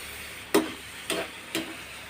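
A prawn curry masala cooks in a pan under a faint steady sizzle, with three evenly spaced, clear knocks or clinks from a utensil against the pan.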